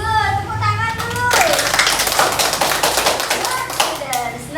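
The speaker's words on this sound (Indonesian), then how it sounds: "Tepuk tangan dulu" A classroom of students claps together in a dense burst of rapid hand claps, loud and close, following a teacher's voice and with talk continuing underneath.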